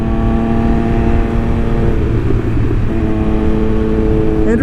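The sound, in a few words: Triumph Speed Triple 1200 RS motorcycle engine accelerating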